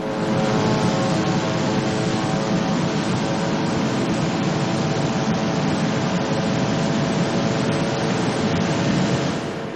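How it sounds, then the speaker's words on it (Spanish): Military drones buzz over Gaza before dawn in a loud, steady, unbroken engine drone that fills the air throughout without pause. "Impresionante el sonido de los drones, ¿no? Imposible no oírlos."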